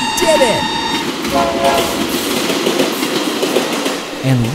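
Cartoon train rumbling along the rails with a rattling, clattering rush, a loud horn blast sounding near the start and again near the end, steady and close throughout.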